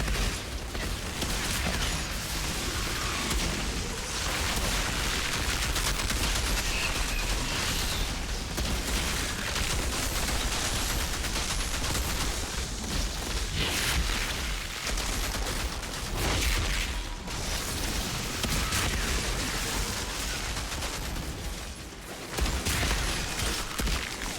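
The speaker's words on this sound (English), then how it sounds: "I forgot this was an automatic shotgun. I've been pulling the trigger over and over again" An automatic shotgun in the Outriders video game fires again and again in rapid, dense bursts of blasts over a long stretch, with almost no pauses in the loud, crackling barrage.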